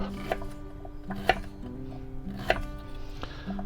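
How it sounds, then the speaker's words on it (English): Knife chopping chicken with skin removed and vegetables for garlic ginger chicken in a narrowboat kitchen, a few irregular sharp cuts against a board, close up, over faint background music. "And then I'm going to cut all this up"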